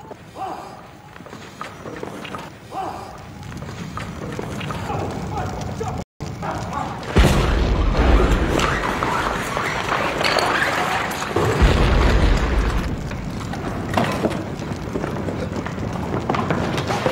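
Heavy booms and thuds from explosions in a police action drama, loud and spaced apart, with a brief dropout before a strong rumbling blast and a second burst, under agitated voices and movement.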